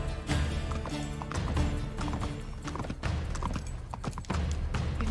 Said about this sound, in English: You've never gotten to ride a horse before.